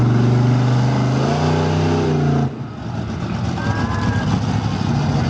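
Santa Pod's own monster truck at an X-Fest 2012 monster truck show, its big engine revving loud and close with a rising tone, then dropping to a rougher steady rumble.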